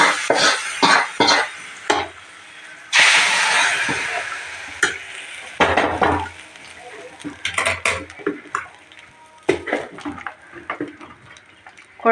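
Browned onions tipped into a village-style pearl millet kuzhambu and stirred, giving a burst of hissing sizzle, then scraping stirs and clinks of a spoon against the pot in short, uneven strokes.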